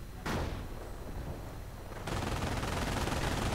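Gunfire in a World War II strategy game, a loud burst at the start followed by a steady crackling rattle of distant shots, with a second denser wave of firing near the end.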